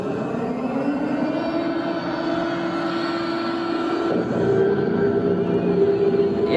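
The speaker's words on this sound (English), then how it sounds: "There's the new infected aircraft." An enormous infected aircraft passes over Chicago in an animated disaster scene, a loud, steady engine roar and drone holding throughout and swelling slightly near the end, with no voices.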